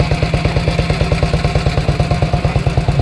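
A vintage BSA sloper motorcycle engine runs close by at a vintage motorcycle run, its loud, steady stream of rapid firing pulses holding an even rhythm throughout with no voices.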